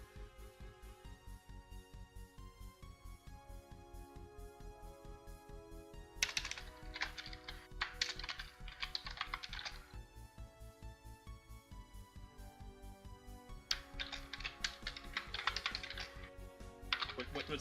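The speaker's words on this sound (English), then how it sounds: "What's Stu typing away at?" Rapid, steady keystrokes clatter on a computer keyboard throughout, with bursts of brighter, faster typing twice along the way.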